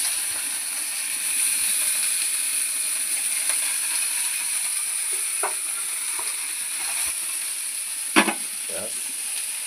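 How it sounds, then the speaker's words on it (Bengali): Ganges morola fish sizzle steadily in hot oil in a pan, with soft crackles and occasional louder pops and scraping stirs near the end. "মাছ ভাজা শুরু হচ্ছে।"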